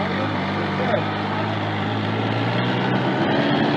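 An MV Agusta Turismo Veloce 800 motorcycle with a smart clutch system runs with a steady engine drone throughout, close and loud, while people talk over it.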